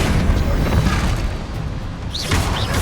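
A heavy spell slam in the Hogwarts Legacy video game lands as a dense, loud boom, with a rumbling low-end impact across the whole moment and a couple of brief whooshing magical sweeps near the end.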